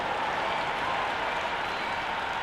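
A cricket crowd at an England versus West Indies T20 World Cup match applauds in a dense, steady wash of clapping, loud and unbroken throughout.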